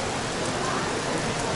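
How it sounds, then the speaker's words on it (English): Steady, dense rain pattering on surfaces at a zoo in Albania, a continuous wash of hiss with no voices, fairly close and even throughout. "But now it's starting to rain even more."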